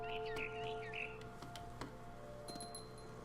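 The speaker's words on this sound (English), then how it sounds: "It was a barn swallow going back to her nest." A barn swallow in What Remains of Edith Finch gives a few short, bright chirps at the start, then quieter tinkling calls over a steady game-ambience hum.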